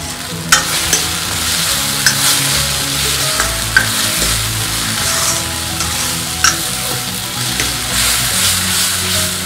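Onions and a ground paste fry and are stirred in a pan for a Pahadi recipe, sizzling loudly and steadily up close, with sharp spoon scrapes and clacks every second or so and no voices.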